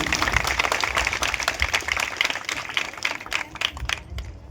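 A crowd at a religious gathering, a guru's seat-installation ceremony in a village, claps loudly in dense, continuous applause that thins slightly toward the end.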